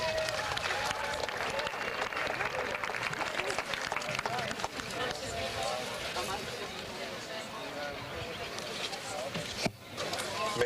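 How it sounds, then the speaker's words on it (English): A large crowd claps at a university commencement, long and continuous, with a dense spread of hands and a murmur of voices in the hall. "May I ask you please to hold your applause until all the names have been read"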